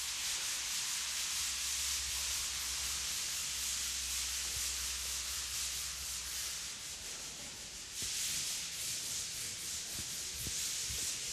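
Continuous rough, raspy scrubbing of 80 grit sandpaper rubbed back and forth by hand on a surface, steady and close, with a brief pause midway.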